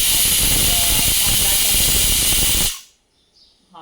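A pressure cooker loudly and steadily hisses steam while cooking sambar with red pumpkin and toor dal, a dense close roar that cuts off abruptly near the end and leaves near silence.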